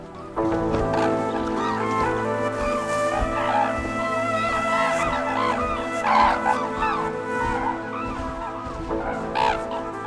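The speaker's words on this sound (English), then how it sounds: "For safety, Japanese cranes spend the night in broad rivers, but at daybreak they take to the air." Japanese cranes taking flight from a broad river at daybreak, a loud chorus of overlapping honking, trumpeting calls that rise and fall continuously.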